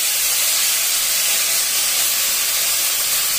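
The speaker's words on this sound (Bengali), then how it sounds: "কাঁচা লঙ্কা একটু ভাজবো।" Green chillies fry in hot oil for a fish and potato curry, producing a loud, even, hissing sizzle that holds steady throughout with no other sounds.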